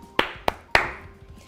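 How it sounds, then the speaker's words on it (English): Three crisp hand claps ring out in a short, even rhythm, close and distinct, with a faint fourth tap trailing off afterward. "and then I could clap it"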